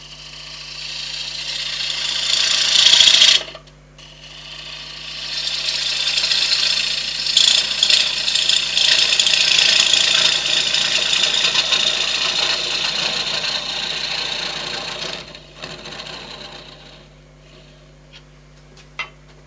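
A bowl gouge cutting wood on a lathe as a turned flower piece is cleaned out: a loud, steady rasping shave that stops briefly, returns for a long sustained run, then falls away, with a few light knocks near the end.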